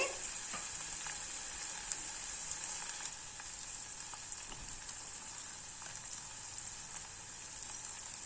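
Chopped green chilies fry in a pan for a sorrel leaf and chana dal curry, giving a steady, even sizzle with faint crackles, close by and with no talking.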